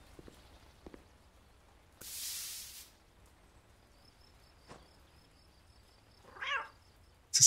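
A cat meows in a cafe management simulation game, one short nasal call near the end after scattered soft clicks and a brief hiss, set against a quiet background.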